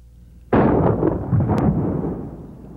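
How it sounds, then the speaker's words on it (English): A single loud shotgun blast firing number 4 tactical buckshot into a test medium on a range, a sharp boom followed by a long rumbling decay. "Now let's try number 4 buckshot."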